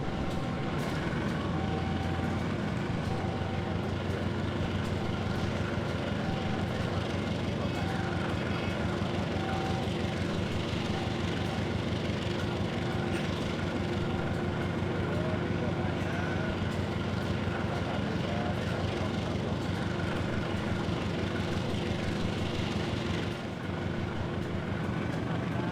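Diesel locomotive in the Trainz Sim game powering up to notch 8 as it pulls away from a station on the Matarmaja Malang–Jakarta run: a steady, loud engine drone with sustained tonal hum throughout, rising slightly in intensity, no talk.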